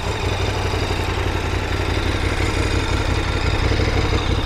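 A KTM 1090 Adventure R off-road motorcycle sits idling with a throaty exhaust note, a dense, steady, close rumble with a fast low pulse and no change in revs throughout, with no voices over it.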